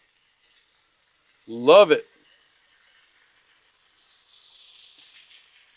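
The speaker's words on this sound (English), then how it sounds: "Oh yeah, sizzle, sizzle." Bacon sizzles on a Blackstone griddle with a faint, steady hiss throughout, broken once by a short spoken remark near the middle.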